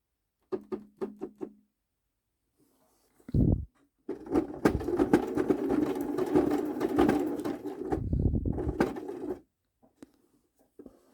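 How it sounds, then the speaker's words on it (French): A sewing machine stitches a tight zigzag to close a buttonhole on a small fabric pouch: a few short bursts, then a longer steady run of rapid stitching, close by with no talk. "Donc, je prends un zigzag que je vais serrer très fort."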